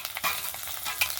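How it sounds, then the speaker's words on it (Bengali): Chopped green chillies and grated ginger are stirred in hot oil, giving a faint, steady sizzle with a few light scraping strokes and no voices. "তেলের সঙ্গে ভালো করে একটু নেড়ে চেড়ে নেব।"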